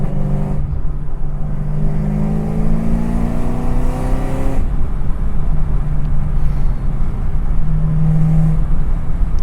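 A 690 rear-wheel-horsepower Chevrolet Camaro ZL1 running hard through quick manual upshifts, its engine note climbing in pitch, breaking off sharply at each shift and climbing again, loud and close under heavy road and wind roar.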